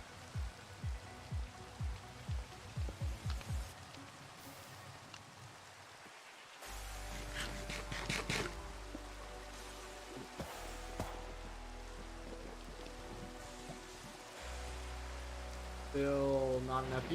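Steady rain falls in the video game Minecraft, a continuous broadband hiss of drops on surfaces that fills the whole stretch, with some low game tones and brief sounds layered over it.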